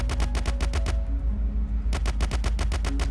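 Rapid Uzi gunfire in the zombie-attack video game One More Night: loud, fast bursts of sharp automatic shots, a brief pause, then another sustained burst.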